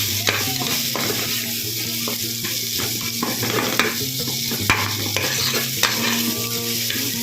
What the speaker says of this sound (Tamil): நல்லா இதுலையே வதக்கி விட்டுடலாம்